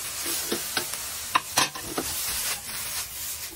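Fried sardines being stirred in a pan for sisig: soft scraping strokes and clicks of a utensil over a steady sizzle, close up, with no talking.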